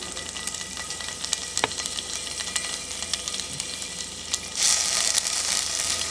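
Tofu frying in refined coconut oil in a pan, a continuous crackling sizzle with scattered sharp pops, swelling into a louder, brighter hiss near the end.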